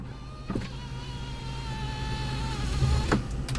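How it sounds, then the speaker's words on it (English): Electric motor of the power retractable rear sunshade in a 2008 Audi S8 V10, a steady thin whine running for a few seconds between two soft mechanical clunks, close inside the cabin. "this is actually your power retractable sunshade all the way in the rear"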